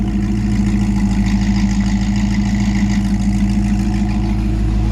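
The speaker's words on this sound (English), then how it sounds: "I'll just give it a little rev for you. It's actually a pretty mild, quiet exhaust." A 1957 Chevy 3100 engine with a mild, quiet exhaust runs smoothly, a steady, close, low rumble with an even pulsing throb and only a slight lift in revs.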